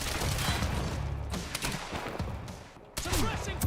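Suppressing gunfire in the shooter game Quantum Break crackles in sustained rapid bursts, loud and close, with a short lull before the shooting resumes.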